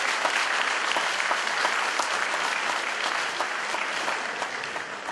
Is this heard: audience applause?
yes